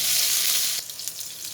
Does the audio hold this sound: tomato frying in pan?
yes